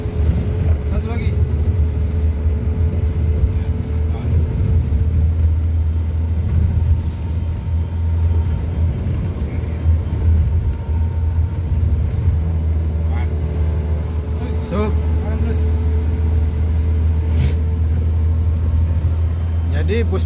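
A medium bus driving on a road, with steady low engine rumble and road noise filling the cabin throughout, while someone talks over it.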